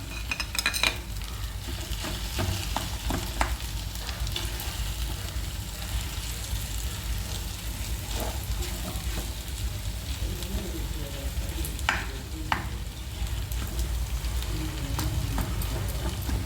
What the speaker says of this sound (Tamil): எப்போ எந்த குழம்பு வச்சாலும் இந்த மாதிரி வதக்குங்க இன்னும் நல்லா வதக்கணும்